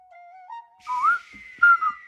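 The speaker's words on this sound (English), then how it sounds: "That flute will get stuck in your head" A short, piping whistle-like tune of a few sliding high notes plays alone, faint and thin, with brief pauses between phrases.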